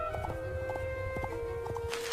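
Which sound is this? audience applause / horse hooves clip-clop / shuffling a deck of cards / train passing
horse hooves clip-clop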